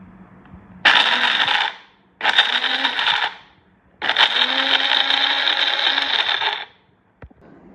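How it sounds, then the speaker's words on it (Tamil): A kitchen mixer grinder grinds cashews and then almonds in three loud whirring bursts, the second short, separated by brief pauses, with the motor running alone and no talk. "மிக்ஸியில் கொஞ்சம் நட்ஸு தான் அரைச்சி வச்சுப்போம்"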